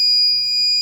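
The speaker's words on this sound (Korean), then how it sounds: "비상 버튼을 이렇게 누르게 되면 부저가 울리면서 냉장고가 멈춥니다." A loud, steady electronic buzzer alarm sounds from the emergency button of a two-channel temperature-sensing refrigerator safety device. It holds one continuous high tone for the whole moment, alone, with no talking.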